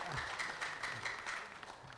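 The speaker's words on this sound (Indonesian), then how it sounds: "Sekali lagi kita berikan tepuk tangan untuk kedua pasangan." A debate audience at the Badung regency election applauds both candidate pairs. The clapping is faint and distant, a steady patter lasting a couple of seconds, with little talk over it.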